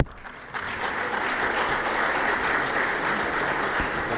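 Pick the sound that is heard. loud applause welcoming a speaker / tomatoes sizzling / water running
loud applause welcoming a speaker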